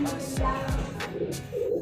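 Pigeon cooing at a coop, a couple of soft low throaty coos close by, with brief flutter and rustle sounds around them.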